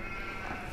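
Sheep bleat in Farming Simulator 15 on a basic farm map, a brief steady bleat from a flock set against continuous background noise.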